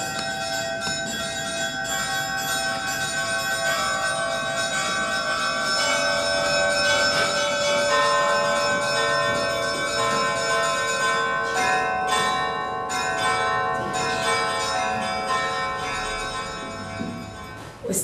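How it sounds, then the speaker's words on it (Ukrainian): Church bells peal continuously in a rich, layered ringing, with many overlapping strikes rolling on and fading slightly toward the end. "такий передзвін 5 травня"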